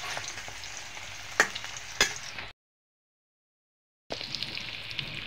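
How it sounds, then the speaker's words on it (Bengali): Chopped onions and spices sizzle steadily in a hot pan while pigeon meat bhuna is being cooked, with a couple of sharp stirring clicks, then the sound cuts to silence for about a second and a half before the frying resumes. "মশলাটা ভেজে নিচ্ছি, এখন পেঁয়াজের কুচি দিয়ে দেবো"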